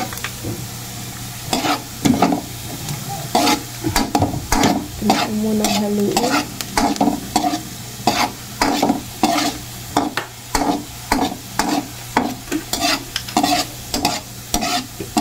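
Onion, garlic and ginger sauté in a pan for squid adobo, with a constant sizzle under brisk, repeated spatula scrapes that keep a fairly regular rhythm throughout.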